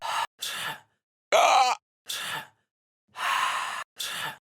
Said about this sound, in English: I kind of like to just get like little chants, little breaths or whatever.